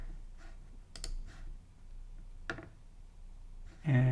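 Sharp computer mouse clicks, a few separate clicks spaced over a few seconds in a quiet room, close and fairly faint, with a brief louder burst of noise at the end.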